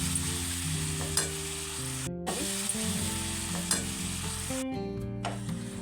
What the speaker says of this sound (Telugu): టమాటా వేసుకొని ఇలా కలుపుకోవాలి